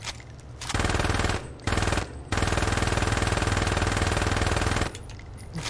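Sustained automatic gunfire in the Saints Row 2 video game, a loud, continuous rapid burst lasting several seconds with two brief pauses, starting and ending over quieter background.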